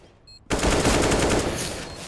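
AK rifle fire in the Counter-Strike video game, a quiet lull broken by a loud, sustained burst of gunfire that carries on without letting up.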